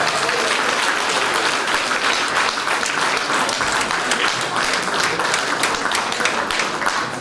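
Sustained crowd applause at a third-grade school event honoring a teacher, dense and steady clapping from many hands filling the whole stretch without pause.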